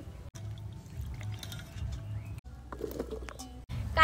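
Cut raw mango pieces being washed by hand in a bowl of water, with soft sloshing and trickling, faint and close, and a light splash near the end.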